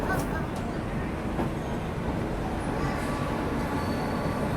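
A Humsafar Express train rolls along after departing New Delhi, giving a constant low rumble and rattle of wheels on track heard from inside the coach, steady throughout.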